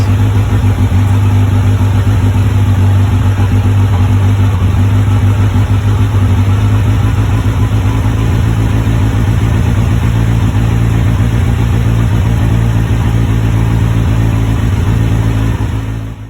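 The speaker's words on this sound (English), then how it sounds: "And this is the sound of the Delftec exhaust." A Kawasaki Ninja 1000SX motorcycle fitted with an aftermarket Delftec exhaust runs steadily, a loud, deep, continuous engine drone held close for about sixteen seconds with little change in pitch.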